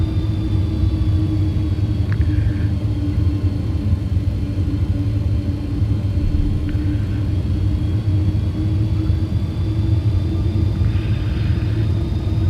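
Simulated Boeing MD-11F jet engines idling and taxiing toward runway 6 after departing Luxembourg, a steady loud low rumble with a faint higher whine running throughout, no talk.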